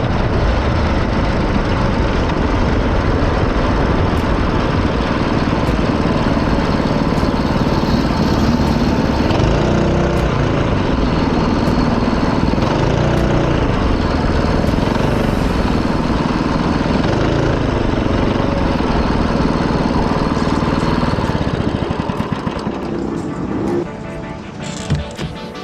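Kart engine at Forest Edge track during mid-month practice, roaring loudly and continuously as it comes off the circuit into the pits, then dropping in level near the end, with voices faintly under the engine.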